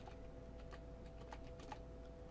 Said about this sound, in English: My keyboard might be running low on batteries.